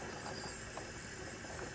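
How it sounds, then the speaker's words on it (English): Steam hissing steadily from a pressure canner processing dry beans, a soft continuous broadband hiss with no talk. "see how the steam is starting to come out."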